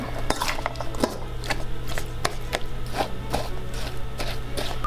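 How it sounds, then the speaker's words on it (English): Ingredients being mixed in a bowl for a tea party treat, a utensil clinking and scraping against the bowl in a steady, close, repeated rhythm. "we have all our ingredients in a bowl. Just gonna mix it."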